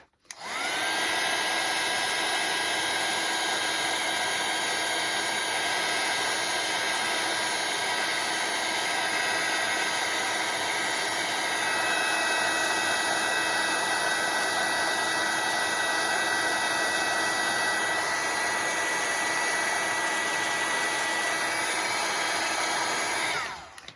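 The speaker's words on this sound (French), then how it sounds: "je l'éloigne du heat gun parce que sinon, après, bah, ça durcit" A heat gun melting embossing powder for hot embossing blows with a loud, steady, hissing whir, switched on at the start and held constant for the whole span before cutting off at the end.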